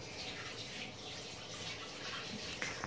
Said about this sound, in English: I need to wash my hands quickly.